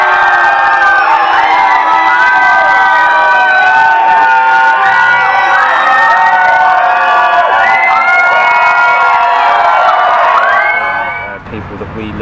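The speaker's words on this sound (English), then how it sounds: "you always get a real passionate sort of scream" A large crowd at a live event screaming and cheering, a loud, continuous wall of shrill whoops and shouts that fades out at the end.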